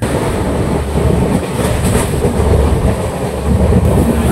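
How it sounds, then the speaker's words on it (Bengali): Tamralipta Express pulling out of Santragachi, its wheels beating a steady clickety-clack over the rail joints under a continuous loud rolling rumble, with no voices. "সাঁতরাগাছি থেকে ছেড়ে দিল আমাদের ট্রেন"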